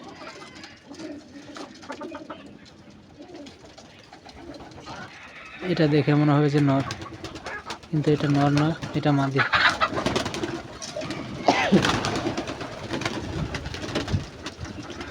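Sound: Giribaz pigeons cooing

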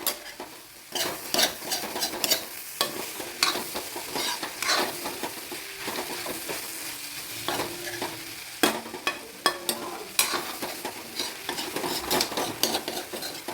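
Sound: stirring egg masala thoran frying in a pan

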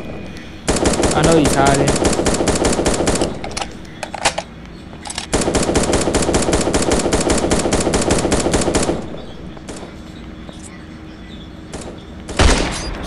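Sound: gunfire in an off-brand Fortnite video game

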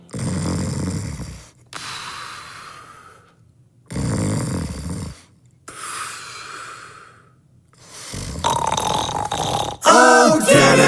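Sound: imitated snoring

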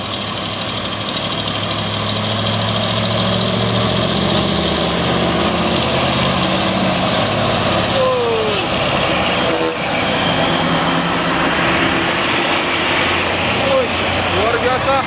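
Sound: dump truck being overtaken on an uphill road

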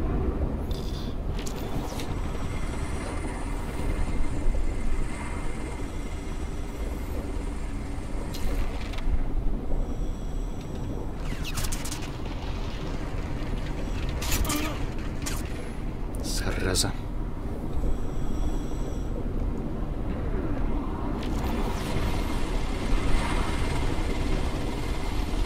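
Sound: helicopter in the video game Crysis

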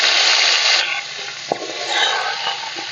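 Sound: dry chili and panch phoron sizzling in hot oil

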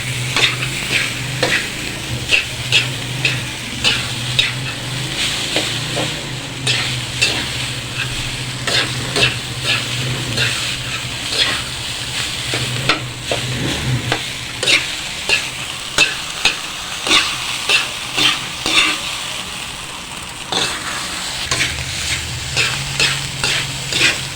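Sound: stirring food as it fries in a pan

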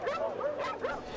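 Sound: Labrador dogs barking at a puppy mill

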